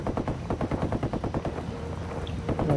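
Rapid bursts of automatic gunfire in the tactical shooter Ghost Recon Wildlands, loud and close, rattling in dense repeated volleys with hardly a pause from start to finish.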